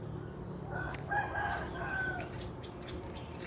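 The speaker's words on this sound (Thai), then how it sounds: "เสียงไก่ร้องแอ๊ะแอ๊ะแอ๊ะแอ๊ะ" A rooster crows once somewhere in the distance, faint and drawn out over a low, steady background hum.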